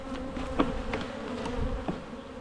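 Honey bees buzz steadily around an open hive, a dense, moderately loud drone close by, with a few individual bees zipping past near the listener.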